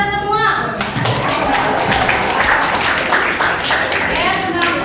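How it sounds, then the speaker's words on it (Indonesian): A classroom group gives applause, a burst of dense clapping from many hands rising right after a short spoken cue and carrying on loudly, with children's voices mixed in. "Kasih aplaus buat kita semua."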